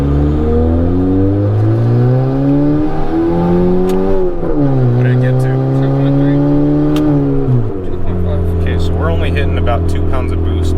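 A turbocharged Honda Civic with an R18 engine accelerating hard on a main road, its engine tone climbing through gears with shifts, loud from inside the car, with a voice speaking briefly near the end.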